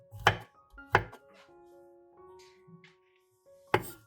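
A knife chops garlic cloves finely on a board: three sharp, close chops land with quiet pauses between them, and no one speaks.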